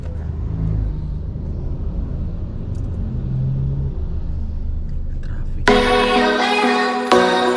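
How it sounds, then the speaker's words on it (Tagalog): Steady low rumble of road traffic in Bangkok, cars idling and moving close by, until loud music with singing cuts in over it near the end. "Traffic."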